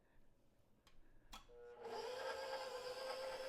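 A mixer grinder starts up after a few clicks and runs loudly and steadily for the rest of the clip, kneading pizza dough with yeast.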